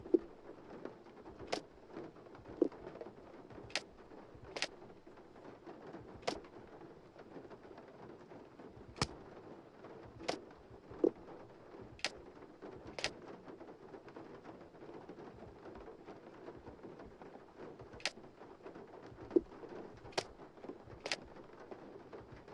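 Steady rain patters throughout in the Nancy Drew game Legend of the Crystal Skull, broken by scattered sharp clicks and taps from books moving, with no talk.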